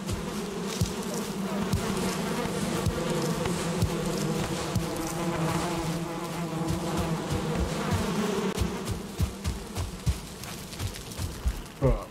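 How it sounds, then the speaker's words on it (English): Bees at a beehive in the video game Valheim give a dense, continuous buzzing drone, with a few sharp clicks and taps near the end. "Check our bees."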